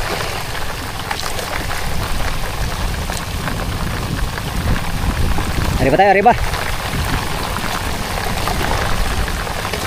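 Rain pours steadily during a fast boat ride, a constant broad hiss of water and engine-driven spray, with someone shouting briefly over it near the middle.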